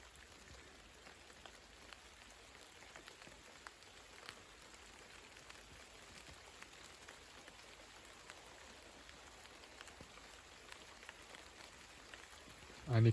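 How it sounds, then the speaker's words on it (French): A thunderstorm rain shower falls in a steady, dense patter, faint and continuous throughout, with a brief louder bump at the very end. "Il y a des rideaux de pluie."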